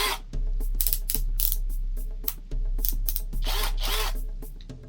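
Rapid plastic ratcheting clicks from turning the clutch tension ring on a Saker mini cordless drill, coming in close, loud bursts with short pauses between them and no speech.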